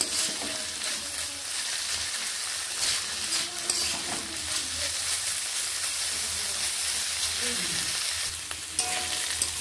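Mixed vegetables frying in an uncovered pan, a steady crackling sizzle with soft scraping and stirring sounds throughout, a faint voice briefly audible underneath.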